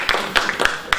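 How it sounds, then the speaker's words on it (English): Scattered handclaps from a small audience at a talk, a few sharp claps spread across about a second rather than a full ovation, fairly close and moderately loud. "Give her another round of applause."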